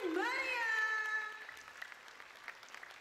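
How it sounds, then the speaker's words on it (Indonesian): Applause from the audience at an elementary school's end-of-year stage show in a ballroom, opening with a loud rising held tone before scattered clapping carries on at a softer level. "Beri tepuk tangan yang meriah."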